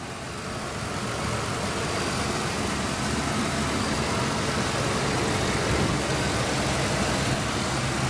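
A 1991 Cadillac Brougham D'elegance engine idling just after startup, a smooth, steady low rumble that holds constant throughout with no voices.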